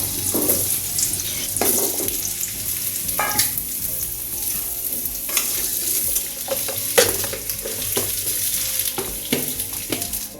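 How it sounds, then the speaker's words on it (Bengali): Kohlrabi and potatoes frying in oil with salt and turmeric, a steady sizzle broken by repeated scraping stirs of a spoon through the pan, with a faint splash of water in the background and no talk. "ওলকপি এবং আলু এটাকে আমি লবণ আর হলুদ দিয়ে কিছুক্ষণ ভেজে নেব"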